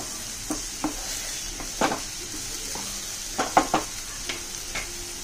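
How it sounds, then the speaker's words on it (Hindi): Tomato fries in hot oil for egg bhurji, a steady low sizzle broken by a handful of sharp scrapes and clinks as a spoon stirs the pan, with no talking. "तेलात टोमॅटो चांगला भाजून घेऊया"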